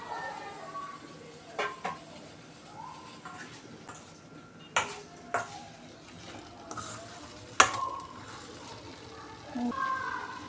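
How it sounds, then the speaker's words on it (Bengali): Taro stolons dropped into a pan of oil-fried spices, giving a soft sizzle with scattered clinks and scrapes of a utensil against the pan, fairly faint and intermittent, with quiet speech at times. "মশলাটা কষানো হয়ে গেছে, এবার আমি এই কচুর লতিগুলো দিয়ে দিই।"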